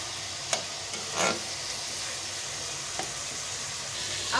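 A spoon stirs sugar into cooked rice for zarda sweet rice in a hot pan, with a few distinct scraping strokes over a constant soft sizzle.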